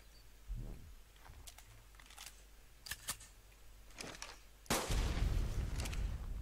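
Several sharp, punchy shots from ARK game weapons firing HE ammunition ring out one after another, followed by a louder, sustained explosive burst with a rumbling tail.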